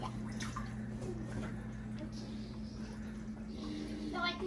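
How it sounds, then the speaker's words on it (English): Tap water runs into a pot at a kitchen sink, a quiet steady splashing stream with faint drips, heard close under low background hum. "So I can get water in this pot."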